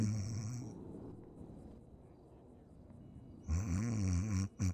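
A character snores in the GTA V NoPixel roleplay game, with a loud, rasping snore at the start and two more near the end, separated by a quieter stretch of low background noise.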